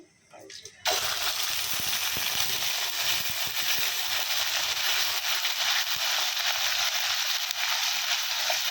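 Ground onion paste hitting a hot pan: after a short quiet moment comes a sudden loud, steady sizzle that keeps hissing with small pops and scraping, while someone talks over it.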